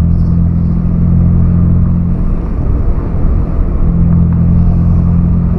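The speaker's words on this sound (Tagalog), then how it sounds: "ganito na po yung sitwasyon dito sa Calamba. Traffic na po." Heavy traffic crawls through Calamba, heard as a loud, constant low rumble of road and engine noise. The drone is steady throughout, with no talking.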